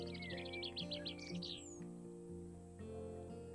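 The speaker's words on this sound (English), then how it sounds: "I like listening to the birds." Birds chirp in the ambient soundscape of the House Flipper video game, a quick cluster of high tweets in the first couple of seconds, faint and set over a steady humming background.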